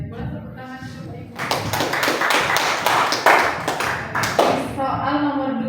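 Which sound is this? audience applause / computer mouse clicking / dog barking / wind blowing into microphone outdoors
audience applause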